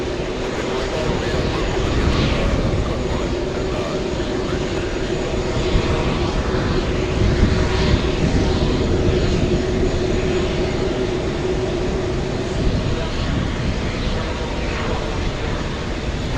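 A Delta airliner at JFK airport roars steadily with a broadband jet engine rumble, sustained and fairly close, with people talking faintly underneath.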